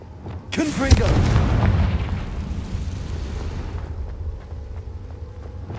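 A Confringo explosive spell detonates in Hogwarts Legacy with a loud, sharp boom that rolls into a long rumbling roar and slowly fades, alone with no talk over it.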